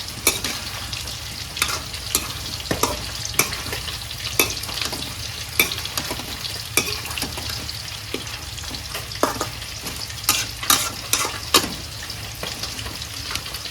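Pork sizzles steadily in a hot pan while a utensil scrapes and stirs in regular, sharp strokes throughout.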